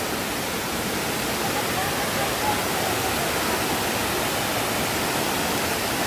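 Mui Wo Waterfalls pour in a constant, dense rush of falling water, a loud, even hiss with no breaks.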